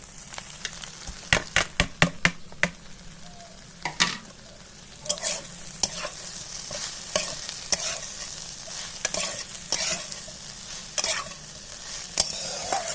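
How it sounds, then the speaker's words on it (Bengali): Okra sautéed with egg in a pan: sharp, irregular scraping strokes of a spatula against the metal over a steady low sizzle, close and fairly loud, with no voices. "আমি দু তিন মিনিট ভালো করে নেড়ে চেড়ে ভেজে নিয়েছি"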